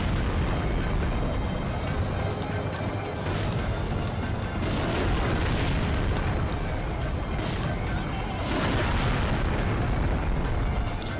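A tank cannon in the PS2 game James Bond 007: Agent Under Fire, booming blasts spaced slowly apart over constant loud rumbling engine and battle noise.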